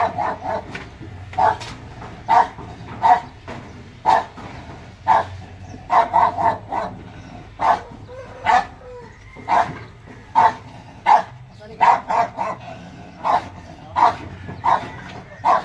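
Several dogs bark repeatedly in short, sharp bursts, fairly close, with brief pauses between volleys and a faint background hum.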